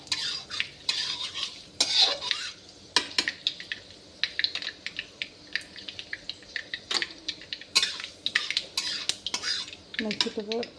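A metal spoon scrapes and clinks in a pan as fenugreek seeds are stirred while frying for a sweet and sour pumpkin dish. The knocks are irregular and close, over a faint sizzle, and no one speaks.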